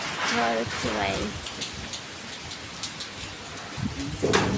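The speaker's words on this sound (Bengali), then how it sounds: "ঝড় হচ্ছে বাইরে" Heavy rain from Cyclone Remal beats down outside in Kolkata, a steady close roar of falling water, with brief voices speaking over it at the start and end.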